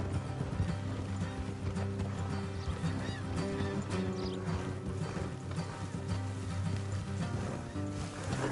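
Horse hooves clip-clop steadily alongside creaking, rattling tack, with occasional whinnies, all at moderate volume in the busy soundscape of Red Dead Redemption 2.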